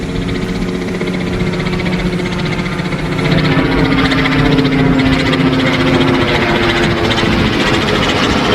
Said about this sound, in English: Tiny helicopter.